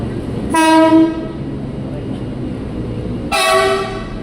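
Two KRL commuter train horns blast one after another at busy Tanah Abang station, each a loud, bright tone lasting about half a second, over a steady rumble of platform and rail noise.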